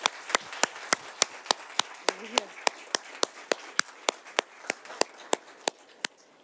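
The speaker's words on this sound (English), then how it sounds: "So a very big round of applause to them" Slow, evenly spaced single claps, about three per second, sharp and isolated over a quiet background, closing an AI-for-social-good panel event with thanks to speakers and moderators.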